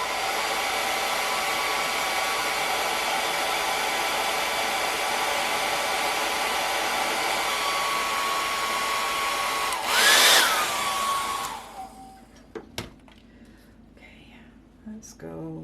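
Hair dryer blowing over a watercolor and ink drawing, a loud steady close rush of air for about ten seconds that surges briefly before cutting off, followed by quiet handling sounds.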